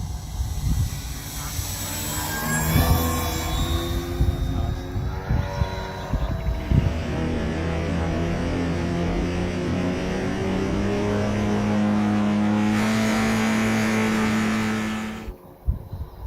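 A vintage model airplane engine drones steadily as the aircraft flies past, its pitch sliding down as it passes, loud and sustained for most of the stretch before cutting off abruptly near the end.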